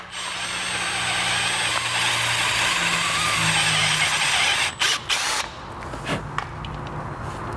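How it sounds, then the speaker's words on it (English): Step drill bit boring a large round hole for a USB charger on a Vespa GTS scooter, a steady whirring grind for about five seconds, then stopping with a few short clicks and knocks. "the step drill bit is gonna be your easiest solution"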